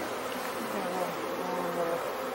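Honey bees buzz continuously during a swarm demonstration, a dense, wavering drone from many insects close by, with no speech over it.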